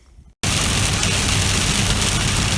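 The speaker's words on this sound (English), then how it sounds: "Well, we're getting a shower now." A sudden rain shower falls on open pasture during a horseback ride, coming in after a short pause as a dense, loud, steady hiss of drops.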